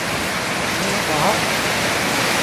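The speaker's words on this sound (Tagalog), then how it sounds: "Grabe baha dito, oh." Floodwater rushes through a street in Mambaling, Cebu, a steady loud broadband wash that fills the whole clip without pause.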